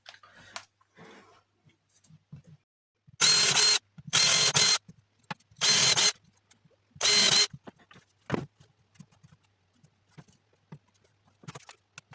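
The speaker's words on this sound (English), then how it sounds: "I'm just going to drill some holes and screw it in" Power drill boring holes in cut wood panels for a window surround on a laser engraver enclosure: four loud, sustained bursts of about half a second each, evenly spaced, with quiet handling clatter between.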